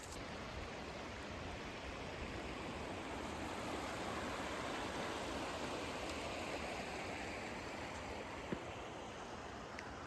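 Steady, broadband rush of a waterfall beside a wilderness campsite in northern Minnesota, loud and unbroken throughout with no voices, a continuous wall of falling water.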